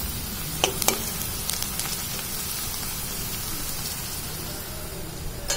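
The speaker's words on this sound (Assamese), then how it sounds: "বাহিৰত ধুনীয়া কিনকিনীয়া বৰষুণ" Light drizzle falling outside a home in the evening, a soft continuous hiss of rain with a few sharper drip clicks near the start and end, no talk.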